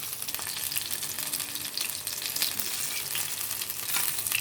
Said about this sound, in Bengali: এই ফুলকপিগুলো আস্তে আস্তে করে ভেজে নেবেন।